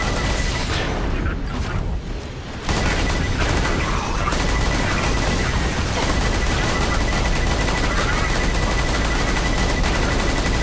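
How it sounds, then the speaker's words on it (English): Dense, continuous gunfire and explosions from the video game Borderlands 2, with shotgun blasts mixed into loud, sustained combat noise that barely lets up over roughly ten seconds, a short dip near the start. "we can actually kill it with our shotgun shots without it flying away"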